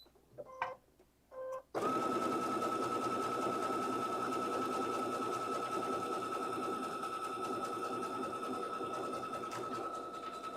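A Baby Lock sewing machine stitches continuously, a steady close mechanical whir with a rapid needle rhythm, following a couple of brief clicks before the motor starts.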